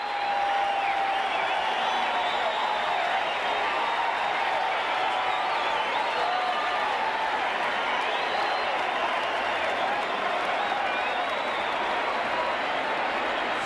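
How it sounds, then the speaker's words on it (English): Big crowd at Tiger Stadium roaring and cheering after Kirk Gibson's home run over the right-field roof, a dense, sustained wash of noise that holds steady throughout, heard from within the stands. "Let's listen to the crowd."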